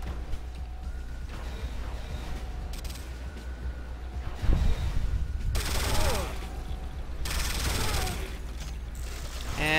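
Bursts of weapon fire in the video game Command & Conquer: Renegade, with several loud, broadband volleys standing out over a steady low hum and faint mechanical clatter.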